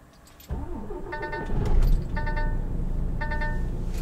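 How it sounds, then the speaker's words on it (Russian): A car engine is started on a cold, rainy day: a short starter crank catches into a running engine that settles into a steady, close idle, with a few electronic chime tones and no talking. "Надо машину завести."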